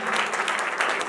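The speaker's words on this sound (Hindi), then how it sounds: "जोरदार ताली देकर प्रेज़ का हालेलुया" Dense, loud clapping from a church congregation giving praise, a continuous wash of many hands with no voices standing out.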